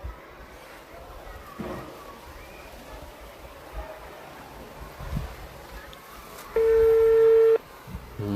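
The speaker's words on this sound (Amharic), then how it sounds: "እየጠራ ነው ቤተሰቦች" A phone call rings out with one long, steady ringback tone lasting about a second, over faint background noise.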